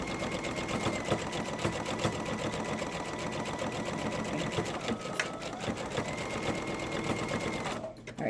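A sewing machine stitches fabric in a continuous rapid mechanical whir with a steady needle chatter, close and fairly loud, stopping near the end after a few seconds.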